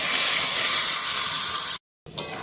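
Water hits a hot pan of spiced potatoes and sizzles loudly as a dense, steady hiss, then cuts off abruptly, followed by a brief quieter crackle.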